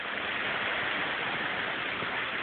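Water pours steadily over the cascading waterfalls of a wetland filtration pond, producing a dense, even hiss that continues without pause.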